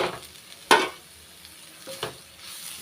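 Grated carrot and coconut sautéing in ghee in a pan, a soft sizzle broken by a couple of sharp stirring scrapes, close and quiet, with no voices.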